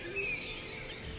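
A bird calls in the desert near sand and water at a campsite, giving a faint, thin chirp early on over a steady wash of background noise.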